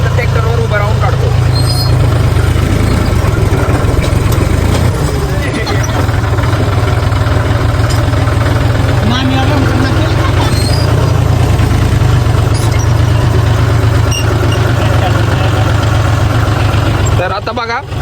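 A tractor engine idles steadily and loudly at close range on a farm where coconuts are being picked, a continuous low rumble running throughout while people talk nearby.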